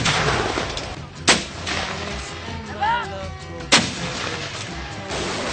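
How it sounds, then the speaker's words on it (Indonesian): Two sharp, booming blasts from RM-70 Grad multiple rocket launcher and 105 mm howitzer fire during a military exercise, a few seconds apart, each with a rolling echo, over a steady outdoor background with a faint whistling sound between them. "tembak tinjau sebanyak 4 butir oleh roket multilaras RM-70 Grad dan 4 butir dari meriam howitzer 105 mm"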